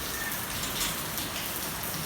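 Steady rain falls after a solar eclipse, a dense close patter of drops hitting surfaces with an even, unbroken hiss and no voices.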